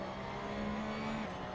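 A race car accelerating out of a corner in the Assetto Corsa video game, with a steady tonal engine drone that holds a rising pitch and then drops sharply as it shifts, played back at moderate level without talk.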